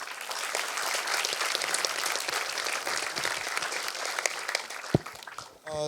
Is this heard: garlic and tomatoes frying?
no